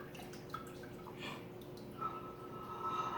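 Sticky homemade Kahlua trickles slowly into a bottle, a faint soft stream with small drips and a rising filling tone toward the end.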